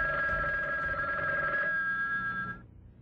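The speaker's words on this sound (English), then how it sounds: "And then the phones started ringing." Telephones ring with a steady electronic trill, loud and continuous, then cut off abruptly, with no talking over them.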